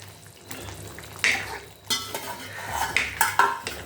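Fried brinjal being tipped into a pot of kuzhambu and stirred, with a few clanking scrapes of a spoon against the metal pot and soft wet stirring sounds, close and fairly loud, no talking.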